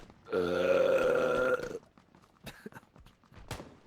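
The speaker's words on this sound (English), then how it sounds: "I burped." A single long, loud, resonant burp lasting over a second, followed by faint background noise and a few scattered clicks.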